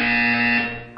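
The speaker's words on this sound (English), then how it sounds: "When you hear the buzzer, look up at the ceiling." A steady electronic buzzer tone from the Portal 2 video game test chamber, loud and sustained for about a second before cutting off, with no talk over it.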